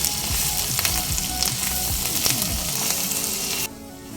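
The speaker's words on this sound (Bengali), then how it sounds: "সব দিয়ে দেব এবার নেড়ে চেড়ে হালকা সোনালি রং ধরে আসা পর্যন্ত ভেজে নেব" Onion, grated garlic and ginger fry in a pan for a fish roe curry, giving a steady close sizzle broken by repeated scraping stirs before it suddenly drops away near the end.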